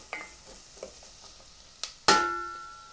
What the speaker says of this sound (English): just gonna stir the onions around in there just a little bit for about a minute or two